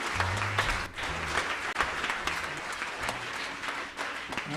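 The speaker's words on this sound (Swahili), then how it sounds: "Sasa pigieni Mungu makofi." An audience claps steadily in a church during a live youth seminar, a dense, even wash of applause lasting the whole stretch, with a low voice or music running faintly beneath it.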